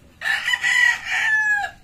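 A rooster lets out a single loud, close crow lasting under two seconds, rising and then trailing off, with no other sounds around it.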